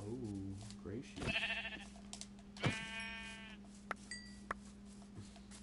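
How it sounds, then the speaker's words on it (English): Several sheep bleats in the video game The Edge of Sanity sound in sequence over a steady electronic hum, with short clicks and a couple of higher tones in between. "Oh, gray sheep."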